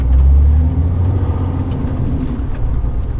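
A truck's diesel engine idles with a deep, steady low rumble as it reverses at a truck stop, loud and close with no speech.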